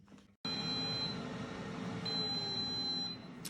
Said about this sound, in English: So these air fryers beeped.